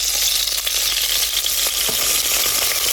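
Mustard oil with a little water spitting in a pot gives a loud, dense, continuous sizzle and crackle, close up and steady throughout, with no talking.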